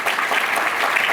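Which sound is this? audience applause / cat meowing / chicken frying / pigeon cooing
audience applause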